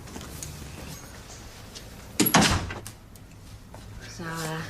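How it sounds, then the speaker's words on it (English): A door closing in an indoor police station scene, heard as a single sharp thud with a brief rattle midway, set against quiet room tone and followed by a short low hum. "And close the door."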